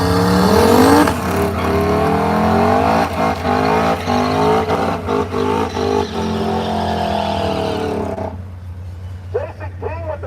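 Gasser drag racing cars launch off the starting line at a drag strip, a loud roaring engine surging and rising in pitch, then a run of rapid choppy bursts before fading away.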